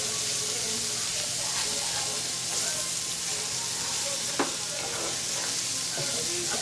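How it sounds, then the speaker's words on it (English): Pork grease sizzling in a skillet, a steady close hiss with scattered sharp pops and faint clinks of stirring, moderately loud, with no voices. "I think the grease cooked out of the other skillet. It's popping everywhere."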